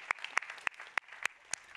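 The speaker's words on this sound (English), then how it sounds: "let's have a round of applause for all of you, class of 2023" Sparse, quiet hand claps from an audience at a first-year academic gathering for the class of 2023, about six separate claps spaced unevenly over a couple of seconds, with no voices.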